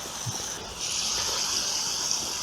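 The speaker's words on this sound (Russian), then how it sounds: "Наливаем так, чтобы наши овощи и мясо полностью покрылось водой." Water gushes steadily from a skimmer into a kazan over fried meat, carrots and onions for plov, starting softly and swelling into a continuous close pour; no talking.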